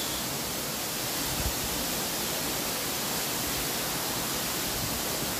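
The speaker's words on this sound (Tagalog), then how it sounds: "Very nice ang falls." Pasalan Falls in Barangay Nasig-id, Zamboanguita, Negros Oriental, pours in a steady, dense roar of rushing water that fills the whole clip evenly without pause.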